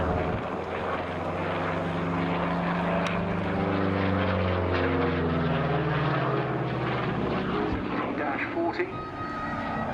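A P-47 Thunderbolt propeller fighter flies at a seaside air show, its loud radial engine droning steadily throughout with shifting pitch as it passes.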